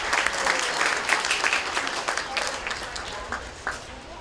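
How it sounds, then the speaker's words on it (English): A crowd at a county fair bucket calf show applauds with steady, dense clapping, moderately loud, with faint murmurs mixed in beneath it. "Let's give these guys a big round of applause."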